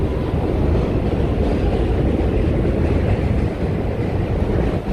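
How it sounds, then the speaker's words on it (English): Subway train in Jackson Heights, Queens, a loud continuous rumbling roar on a city street, heavy and steady throughout with some wind buffeting and no speech. "you're gonna hear a lot of noise of the subway train"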